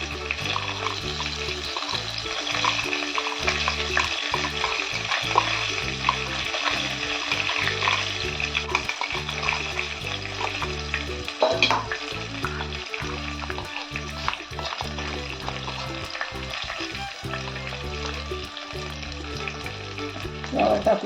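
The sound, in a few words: cumin tempering sizzling in hot oil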